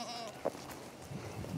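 A weak young goat gives faint, brief bleats over a steady outdoor hiss, a short thin cry early and soft low calls toward the end, distant and quiet.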